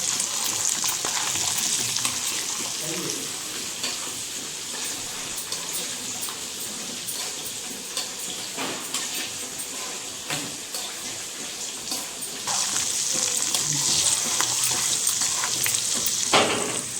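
Dried red chillies and green chillies stir-fried in a pan, a continuous close sizzle with scattered spatula scrapes, growing louder near the end.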